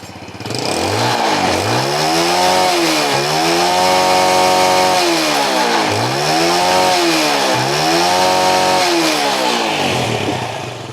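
A kick-started Yamaha motorcycle engine running without choke, loud and close, its revs rising and falling in repeated swells as the throttle is blipped.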